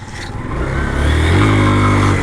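A Hero Karizma R motorcycle engine fires up and revs, rising from a starter whirr into a loud, close, steady engine drone with a slight rattle as the throttle builds.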